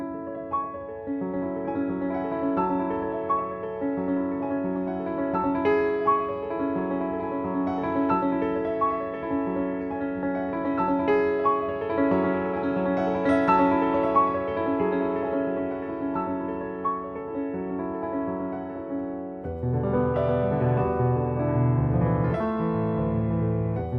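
Grand piano recorded with wide cardioid microphones placed near the hammers, playing a continuous passage of sustained chords and melody with crisp hammer attack, an even tone and a denser, louder section near the end; no voices.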